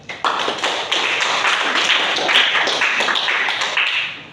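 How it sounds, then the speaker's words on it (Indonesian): A classroom of students clapping together in a burst of dense, close hand claps lasting several seconds before fading out. "Kasih tepuk tangan dulu."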